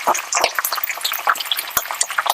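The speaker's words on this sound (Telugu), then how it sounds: "ఇది కంప్లీట్ ఫ్రై అండి అందుకే ఐరన్ కడాయిలో వేస్తున్నాండి" Chicken fries in an iron kadai, giving a dense, steady crackle of small pops and sputters that stays close and fairly loud throughout.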